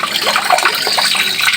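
Water poured out for an animal to drink, a steady continuous splashing stream heard up close with no voices.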